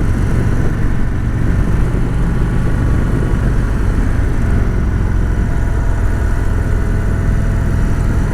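Indian Springfield Dark Horse motorcycle being ridden, its engine a loud, steady low rumble with constant road and wind roar, heard close and alone with no talking.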